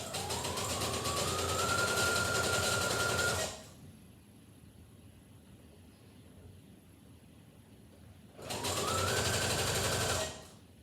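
A sewing machine stitching fabric for panties runs fast in two bursts, the first about three and a half seconds and the second about two seconds, rising quickly in pitch to a steady whir, with a quiet pause between.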